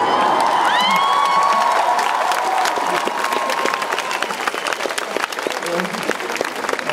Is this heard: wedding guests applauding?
yes